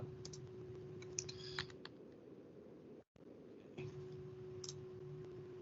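Soft computer keyboard typing and a few mouse clicks, faint and close, in short clusters over a steady low electrical hum, with a brief dropout midway.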